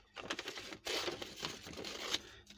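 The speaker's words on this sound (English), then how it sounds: "I'm just going to cut that off freehand." Scissors snip freehand through a paper and acrylic craft stamp, giving a close run of quick, crisp cutting clicks and light crinkling scrapes in short bursts, with no talk.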